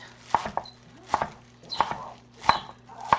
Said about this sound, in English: and then start chopping it.